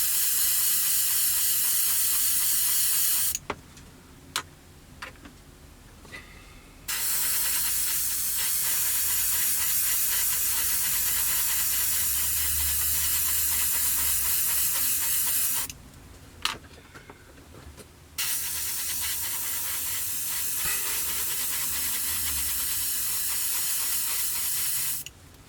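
Airbrush spraying Alclad aluminium metallic paint onto small 1/48 scale Kinetic Pucara main gear bay parts, loud continuous hissing bursts with two pauses and a few clicks, no voices.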